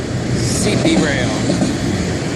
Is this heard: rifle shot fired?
no